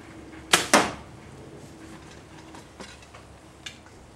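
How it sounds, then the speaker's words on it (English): An arrow shot from a bow strikes an archery target with two close sharp thumps, followed by a couple of fainter knocks in an otherwise quiet outdoor setting. "All you hear is just the thump when the arrow goes in the target."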